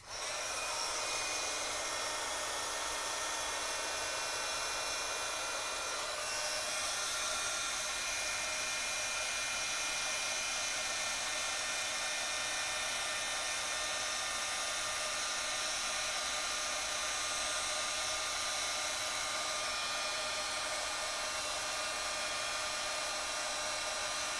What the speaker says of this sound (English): So I'm just going to take my heat tool and hit this.